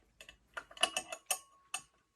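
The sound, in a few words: removing bolts from a WonderMill Junior Deluxe grain mill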